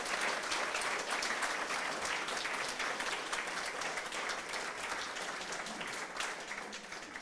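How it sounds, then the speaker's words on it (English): Dense, steady applause from a graduation ceremony crowd fills the hall, clapping for colleagues joining online; it stays loud and even throughout with no gaps. "give a round of applause for all our colleagues who couldn't make it here today"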